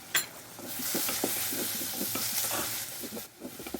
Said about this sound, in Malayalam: അതിലേക്ക് കറിവേപ്പില ഇട്ട് കൊടുക്കുക.